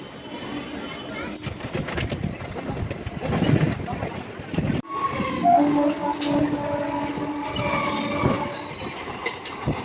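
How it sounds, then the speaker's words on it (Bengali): A Howrah–Tarakeswar local passenger train rumbling and clattering along the rails, wheels squealing at times, continuous and close, with a short break midway. "হাওড়া তারকেশ্বর লোকাল চলে এসেছে এই ট্রেনে করেই আমরা তারকেশ্বরের উদ্দেশ্যে রওনা দেব"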